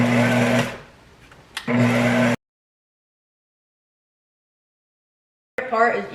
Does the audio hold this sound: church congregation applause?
no